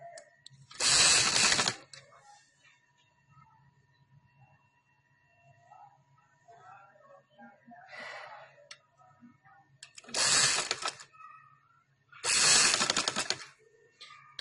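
A sewing machine stitching fabric loops onto a women's casual dress, doubled over; three loud bursts of rapid needle chatter, separated by quieter handling noises and a short faint burst in between.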